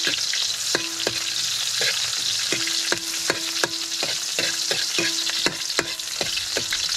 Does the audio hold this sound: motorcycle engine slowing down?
no